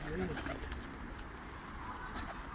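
Dolapçı tumbler pigeons coo softly in a loft, a low steady murmur under outdoor background noise, with occasional voices nearby.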